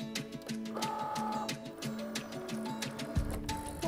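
A cutting machine cuts an acetate sheet on a light grip mat, giving a steady run of whirring motor movements and rhythmic ticking carriage sounds, close and moderately loud, with no talking.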